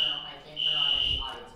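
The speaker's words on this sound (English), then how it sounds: "we have a fire alarm going off all of a sudden" A fire alarm goes off in a room during a talk session, sounding a shrill steady electronic tone that cuts out briefly and resumes, with a voice speaking underneath.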